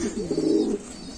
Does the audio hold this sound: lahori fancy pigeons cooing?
yes